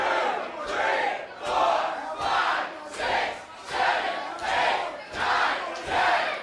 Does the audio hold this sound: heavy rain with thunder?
no